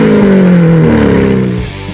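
A 6.5-liter V12 engine in a very expensive car roars loud and close, a rich droning pitch sliding downward over two seconds before easing off.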